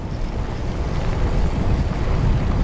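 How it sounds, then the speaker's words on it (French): Strong storm wind roars and buffets the microphone continuously while cycling through vineyards near Geneva, a dense low rumble with steady gusting and no voices. "Petite traversée des vignes dans la tempête."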